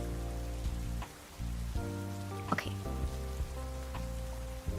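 Soft, steady rain ambience with light patter and occasional drips, faint and continuous under a low musical hum, with a brief spoken word.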